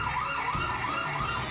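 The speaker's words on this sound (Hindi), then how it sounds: "आवाज, बार बार अलार्म बजना।" An alarm wails repeatedly in a rising and falling siren-like tone, loud and steady with no pauses.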